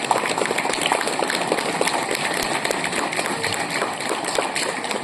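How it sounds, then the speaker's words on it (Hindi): Loud, dense applause from a large school assembly gathered for a retirement day morning assembly, a steady crowd roar of many hands clapping continuously throughout without pause. "तो उनके लिए एक जोरदार तालियां"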